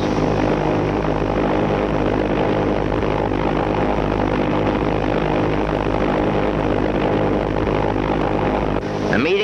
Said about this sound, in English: with the steady whir of the motors sounding in our ears